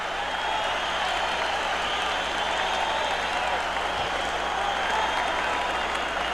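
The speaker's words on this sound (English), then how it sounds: "Crowd is very excited." Boxing arena crowd at Mike Tyson vs Jesse Ferguson roars and applauds in a dense, unbroken wash of clapping and cheering, with commentary voices faintly beneath.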